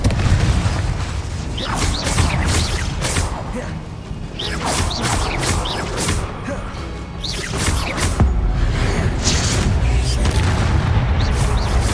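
Repeated booming blasts from the Confringo spell in Hogwarts Legacy, loud and close, mixed with crashes, whooshes and mechanical clatter in a dense, continuous battle din.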